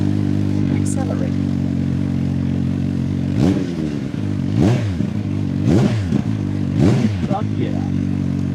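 CFMOTO 750SR-S motorcycle engine running loud and steady nearby, with several sharp revving sweeps rising and falling in quick succession over a constant droning idle.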